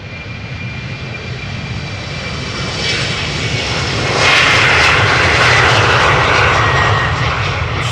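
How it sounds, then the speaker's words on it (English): A KLM Embraer 190 jet bound for Norwich takes off at Amsterdam Schiphol. Its engine roar holds loud and steady, then swells noticeably about halfway through as the jet powers up and departs. No voices are heard. "KLM Embraer 190 to Norwich is pulling up and ready to go."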